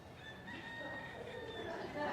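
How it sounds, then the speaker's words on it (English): Roosters crowing at a distance, drawn-out calls rising over a low outdoor background, faint and steady across a brief moment. "Just like those roosters announced it."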